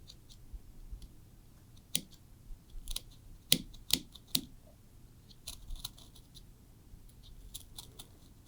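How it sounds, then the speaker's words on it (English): Hobby knife slicing through the stitching on a baseball's leather cover: faint, sparse sharp clicks and snips in small irregular clusters, close and quiet. "we have a hobby knife here. So I may use that on top of the stitching"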